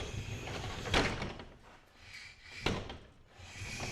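A newly installed used garage door on a houseboat moves on its track, with two sharp clanking knocks about two seconds apart over a steady rumbling roll.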